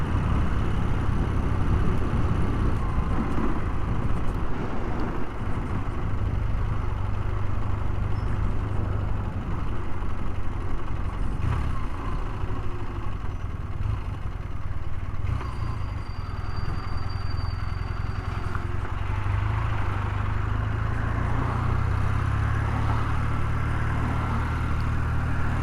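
BMW R100TIC motorcycle engine idling after a cold start, a steady low-pitched rumble that holds loud and even throughout with no talking.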